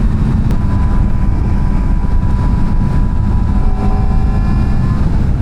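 A 2025 Kawasaki Ninja ZX-4 RR motorcycle cruises at about 110 km/h and 7000 rpm, its engine humming steadily at high revs under loud, close wind rush.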